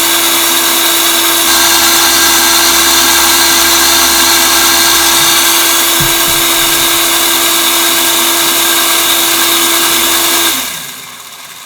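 A tote mixer stirs bulk fertilizer material with a loud, steady motor whine and churning roar, close by and continuous for about ten seconds before winding down.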